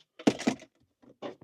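Volvo XC40 electric SUV unlocking, a pair of quick mechanical clunks from the door locks followed by a softer click, close and dry.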